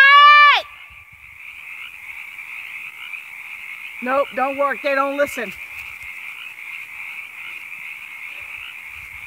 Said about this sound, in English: Those frogs are noisy.